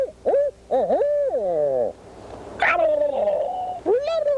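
A person imitates an owl hoot with a series of loud, close, wavering hoots and calls, used to locate wild turkeys in the morning.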